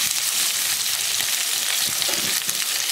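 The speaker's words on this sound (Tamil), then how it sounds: "இதை நல்லா கொஞ்சம் வதக்கிக்கலாம்." Okra sautéing in a pan for Chettinad vendakkai mochai mandi makes a loud, dense, steady frying sizzle with no voices.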